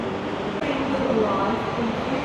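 BTS Skytrain at Bang Sue station in Bangkok, a continuous loud rumble and hum of the rail car in motion, steady throughout with a voice talking faintly over it.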